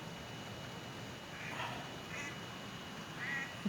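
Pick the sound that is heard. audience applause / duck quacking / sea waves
duck quacking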